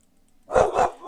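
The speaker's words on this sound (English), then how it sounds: "so I apologize for the barking that is happening." A pet dog named Kay barks indoors, two loud, close barks in quick succession after a quiet moment.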